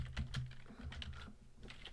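Quick, soft clicking of keys on a computer keyboard, a run of irregular taps heard close and alone at low volume.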